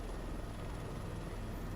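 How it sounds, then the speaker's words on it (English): A French sightseeing helicopter with a large bubble canopy is in flight. Its rotor and engine drone loudly and evenly throughout, with no talk. "No, this is a French helicopter."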